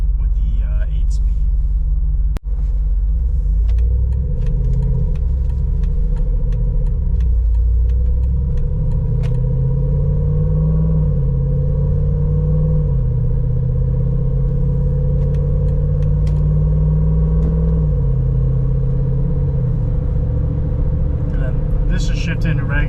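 A Hemi V8-swapped Jeep with an 8-speed transmission cruises along, its engine a steady low rumble with slight rises and dips as it shifts, heard from inside the cabin throughout.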